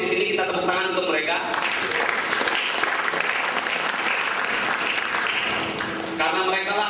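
Applause from an audience at a business motivation talk, honouring company employees, sustained and loud, with music and a voice running alongside the clapping.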